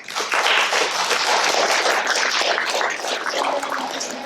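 Dense, sustained applause from a meeting audience at the Women Against Military Madness annual meeting, with many hands clapping in a continuous wash, close and loud.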